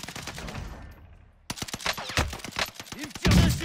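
Gunfire rattles in the Warzone video game, first as muffled distant pops, then as loud, close rapid bursts of sharp shots after a brief quiet gap.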